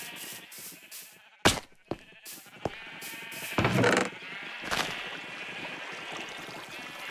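Repeated sheep bleats from a Minecraft farm with shears and white wool, several short distinct calls spaced irregularly, fairly close and clear against a quiet game background with faint ambient tones.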